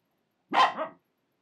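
A single close, loud bark from a Finnish Spitz dog out walking, a quick two-part yap that stops abruptly and is followed by silence.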